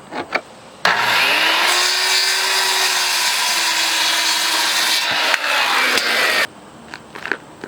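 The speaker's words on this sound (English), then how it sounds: "I need to take the 12-footer and cut it into four 3-foot pieces" A power saw rips through a 12-foot wooden board to cut it into 3-foot pieces, one loud, continuous close cut lasting several seconds, with brief knocks of handling before and after.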